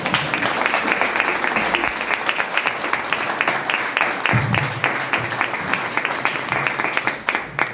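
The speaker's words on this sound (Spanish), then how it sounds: "Un aplauso." An audience applauds at an indoor memorial event honouring people repressed under the Franco dictatorship, with dense, sustained clapping that stays loud and even throughout.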